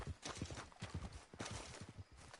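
Quick, rhythmic horse hooves clip-clop at a steady trot in the video game Red Dead Redemption 2, close and fairly crisp, with no voices.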